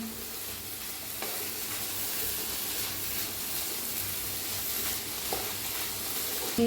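A roasted snack mixture for bun bhaji is stirred and mixed in a hot pan, with a steady close sizzle broken by occasional scraping clicks.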